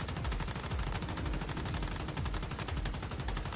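Sustained automatic gunfire in the video game Once Human rattles on without a break, rapid dense shots fired continuously at close range and loud throughout.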